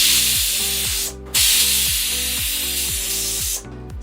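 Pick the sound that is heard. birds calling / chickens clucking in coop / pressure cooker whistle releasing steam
pressure cooker whistle releasing steam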